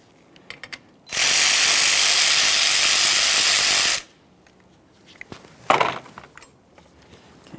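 A ratchet wrench turns a 10mm mounting nut on the radiator fan assembly of a 2009-2014 Nissan Maxima, giving one loud, steady burst of rapid clicking lasting about three seconds, followed by a few faint knocks and a brief scrape.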